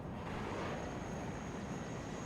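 A military airplane in the WARNO real-time strategy game roars as a steady, dense engine rumble, loud and continuous across the whole moment.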